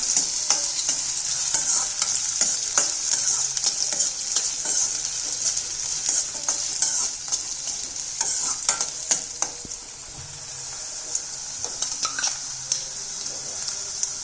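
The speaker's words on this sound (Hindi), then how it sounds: "अब मैं इसमें डाल देती हूँ प्याज। इन प्याज को 1 मिनट भून लेती हूँ।" Onions sizzle and fry steadily in hot mustard oil while a spoon stirs and scrapes the pan now and then.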